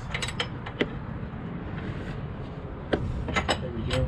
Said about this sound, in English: I have to get this top bolt with a wrench. And it just gives me enough space to do like quarter turns.